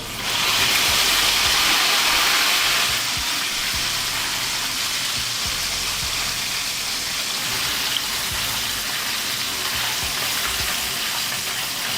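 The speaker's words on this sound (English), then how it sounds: "I'm just gonna flash fry it for an additional minute or so" Chicken wings flash-fry in hot oil at 375 Fahrenheit with a loud, steady crackling sizzle like heavy rain. The sizzle is slightly fiercer at the start, then settles into a constant hiss with small pops.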